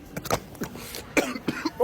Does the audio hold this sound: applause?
no